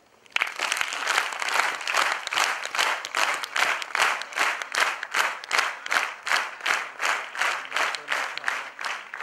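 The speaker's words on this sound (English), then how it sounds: "Can you clap for yourself?" An audience at a talk claps together in a steady, even rhythm of sharp, loud, evenly spaced claps that continue for several seconds with no voices over them.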